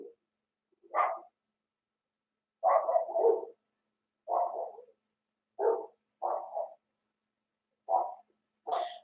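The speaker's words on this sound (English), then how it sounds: "There goes the neighbor dog again." A neighbor's dog barks in short separate bursts, one or two at a time, spaced across the stretch, moderately near and alone with no talk.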